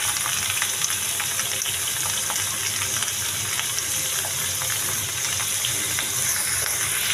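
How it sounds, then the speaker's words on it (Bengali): Pumpkin greens, carrots and green and yellow bell peppers sizzle steadily in a hot pan, a dense, even frying hiss with faint scraping from stirring running throughout, no voices. "ভালো করে নেড়ে চেড়ে নেব।"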